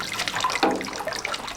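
Boiling water ladled over pressed olive paste in a traditional family olive mill, a close, steady watery pour and splash throughout the short moment.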